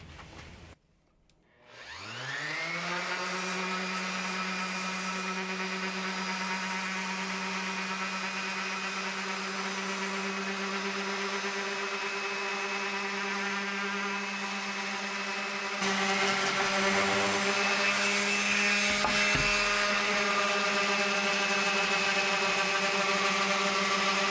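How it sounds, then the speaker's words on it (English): A power sander working 100 grit sandpaper over an RV cabinet: one steady, loud motor whine that starts up, holds, and gets a little louder and rougher partway through, with no talk. "First things first, I'll sand it with 100 grit."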